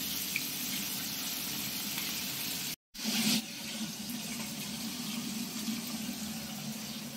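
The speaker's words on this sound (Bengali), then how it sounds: "ইলিশ মাছ ভাজা হচ্ছে, একদিকে আদা আর কাঁচা লঙ্কা।" Hilsa fish frying in oil beside ginger and green chillies makes a steady, moderately loud hiss that cuts out briefly for a moment, then returns and carries on unchanged.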